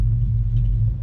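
The engine of a 1985 Ford Mustang T-Top, in need of tuning, idles in a deep, steady, close rumble after starting, with no voices over it.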